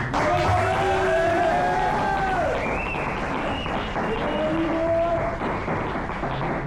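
A live audience at the Art Factory venue greets a performer with sustained, loud clapping, high whoops and cheers throughout the crowd's noise.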